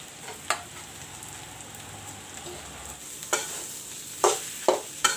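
Mashed potatoes being stirred into a spiced saffron mixture in a pan for aloo chops, with a soft continuous sizzle and a few sharp scrapes and clinks of the spoon against the pan, close and without talk.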